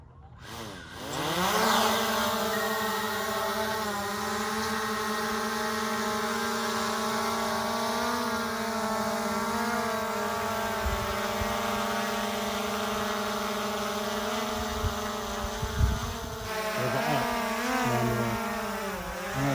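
A camera drone lifts off over wildfire smoke in Sequim, Washington. Its rotors spin up into a rising whine that climbs in pitch, then settle into a loud, steady, close buzzing hum with slight pitch wavers as it flies.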